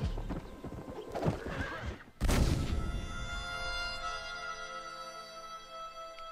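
A horse in the Red Dead Redemption video game lets out a loud, sudden whinny that trails off into a long, fading neigh, preceded by softer hoof and ambient game sounds.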